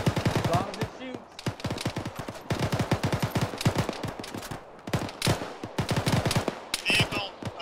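Rapid automatic gunfire during a firefight in the ArmA military video game: dense, rhythmic bursts of loud shots that keep going with short pauses, with some voices under the shooting.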